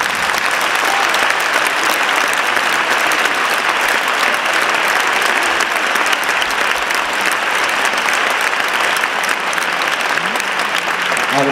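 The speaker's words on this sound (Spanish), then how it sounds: "Un fuerte aplauso para ellos, por favor." Sustained audience applause at a Ballet Nacional de España performance in Seville, a dense, steady wash of clapping that stays loud and even throughout without a break.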